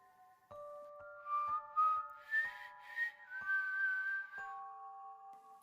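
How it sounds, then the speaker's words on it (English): A melodic whistled tune rises and falls in short phrases over soft chiming notes that strike at a slow, regular pace. "A doll whistled from the house."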